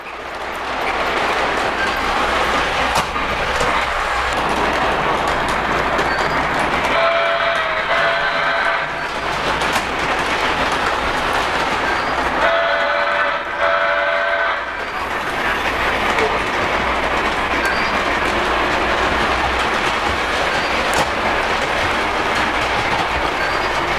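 A model passenger train on a Polar Express-themed North Pole layout runs continuously, a steady rolling clatter of wheels on track with periodic rhythmic clicks and a few brief metallic tonal bursts, close and loud throughout, no speech.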